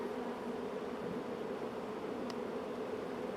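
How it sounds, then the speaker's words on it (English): Honey bees buzzing in a continuous, steady drone inside a nuc box, close and even in volume throughout, with no voices. "then we'll have bees that are still in the box"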